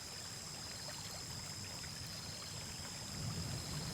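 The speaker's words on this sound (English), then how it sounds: "Each small note of water tumbling over stone." Stream water tumbles over stones in a steady, soft rushing wash with a faint trickling texture, continuous throughout and slightly fuller toward the end, with no voices.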